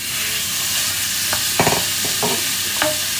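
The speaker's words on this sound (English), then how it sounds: "Cook the beef meat, breaking up the lumps with a spoon for 3 to 4 minutes or until brown." Ground beef fries in olive oil in a hot pan over high heat, a loud, steady sizzle broken by a few scraping stirs as a spoon breaks up the lumps.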